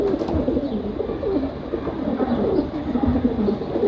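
A pigeon coos repeatedly up close, low throaty rolling calls in a steady run with no voices.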